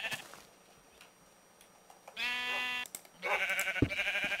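Sheep bleating in the Minecraft video game, a few wavering harmonic bleats rising out of quiet game ambience, the loudest near the middle and end, fairly close and clear with no talk over them.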